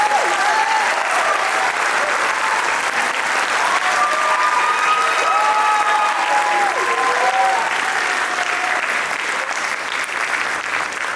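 Steady, sustained applause from a spring concert audience honouring wind ensemble students, a dense wash of clapping hands that holds evenly throughout with no talk over it.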